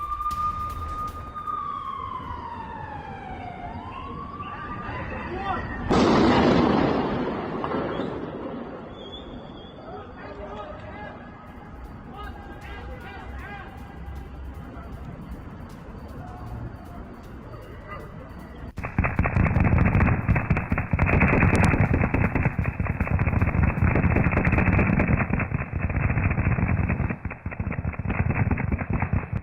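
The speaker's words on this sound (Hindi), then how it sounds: "सिलसिलेवार गोलीबारी की आवाज आप सुन सकते हैं" In a war zone in Gaza, a rising wail and tones open onto scattered cracks and booms, then a dense, loud stretch of rapid continuous gunfire rattles on without pause to the end.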